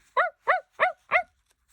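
Four sharp, evenly spaced dog barks, close and clear, each short and bright with a pause between, followed by silence.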